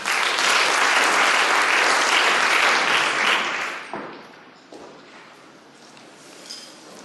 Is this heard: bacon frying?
no